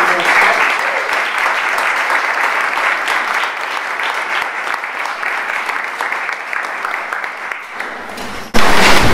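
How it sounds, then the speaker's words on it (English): Loud, sustained audience applause for panel participants at a discussion event, a continuous dense clapping wash that holds for nearly the whole stretch before cutting off abruptly. "Let's give them all a big round of applause."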